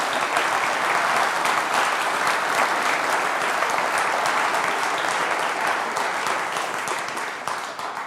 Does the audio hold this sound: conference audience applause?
yes